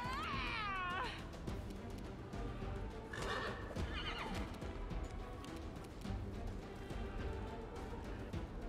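A horse in the fantasy role-playing game Pathfinder: Wrath of the Righteous gives a loud, shrill whinny at the start. Kicking and hoof clatter follow against dense battle sounds and game music.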